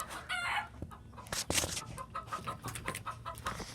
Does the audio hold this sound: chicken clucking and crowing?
yes